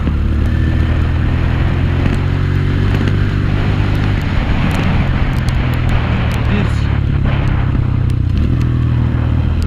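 A Honda CRF125F dirt bike ridden flat out on a farm at its roughly 60 km/h top speed, with a loud, close, steady high-revving engine drone and wind buffeting throughout.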